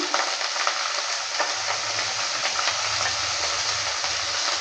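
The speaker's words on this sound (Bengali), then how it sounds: "এবার দিয়ে দিচ্ছি পেঁয়াজ কুচি" Finely chopped onion fries in hot oil in a pan for chana masala, producing a loud continuous sizzle with light stirring crackles.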